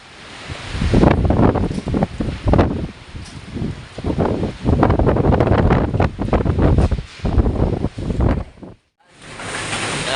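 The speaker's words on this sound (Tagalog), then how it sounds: "Tinutulak kasi ng hangin tong aming salamin na pintuan. Sobrang lakas" Strong gusts of wind after a typhoon push against a glass door, a loud roaring rush that surges and fades in waves, close to the microphone, with a brief lull near the end before it rises again.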